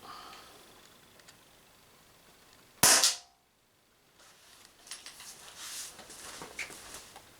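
A single Umarex HDP50 air pistol shot with a modified silencer gives a short, soft plop rather than a bang, followed by near silence and faint rustling.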